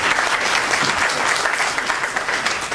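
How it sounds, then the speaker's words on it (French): A crowd bursts into loud, dense applause for a guest professor at a formal gathering, continuous clapping close and full throughout. "Donnez-lui des applaudissements, parce que c'est mon grand frère."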